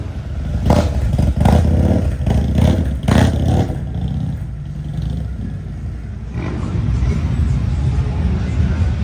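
A motorcycle at a Myrtle Beach bike week shop rumbles and revs in several loud bursts, then settles into a steady idle, with people talking nearby.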